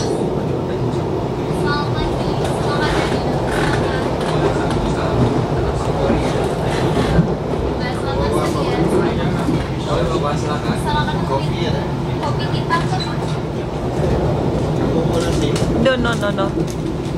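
Panoramic passenger train with full-glass carriages running on rails through Indonesian countryside in the morning, a steady continuous rumble with faint rhythmic clatter throughout, people talking over it.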